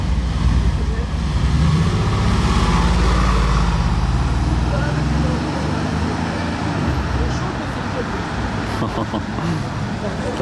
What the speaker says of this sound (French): Bugatti Chiron qui part en convoi avec le Rolls Cullinan.